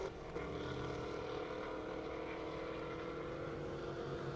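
A drag racing car roars through the timing trap on a half-mile airport drag strip, heard as a steady, sustained engine drone at moderate distance.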